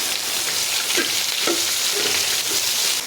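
Chopped onions sautéing in a hot pan while cooking a jackfruit and chicken dish, a steady close sizzle broken by a few soft scraping stirs at regular intervals, with no voices.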